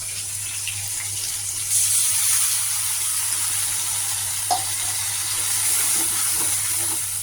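Paste of white and black mustard seeds, poppy seeds and green chili poured into a hot pan, a steady hissing sizzle that swells partway through and keeps going evenly, with a few faint clinks.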